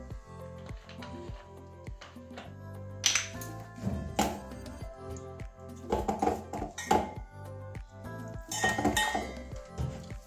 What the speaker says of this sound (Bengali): এগুলো বেশ করে জল দিয়ে একটা ব্যাটার তৈরি করব।